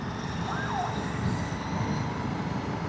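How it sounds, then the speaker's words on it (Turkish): An emergency vehicle siren rises and falls faintly through dense Istanbul city traffic noise, partly buried under the steady road rumble. "o çakarlı araç siren çala çala aça aça"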